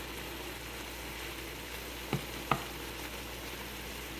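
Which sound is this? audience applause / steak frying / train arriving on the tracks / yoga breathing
steak frying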